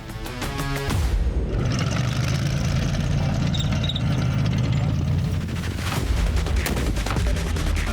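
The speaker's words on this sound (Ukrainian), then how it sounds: "Гранатометник відпрацьовує РПГ по імітованих ворожих позиціях." A sharp, booming RPG launch blast at simulated enemy positions during military training, followed by a sustained loud roar and rumble, then scattered crackling reports of gunfire toward the end.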